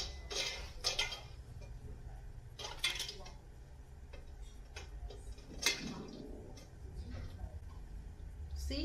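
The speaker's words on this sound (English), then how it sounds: "how the magnet just actually picks that up for you" A magnetic lid lifter picking up metal canning jar lids while making pepper jam, with light metallic clicks and clinks in short bursts among kitchen clatter, a voice speaking over it.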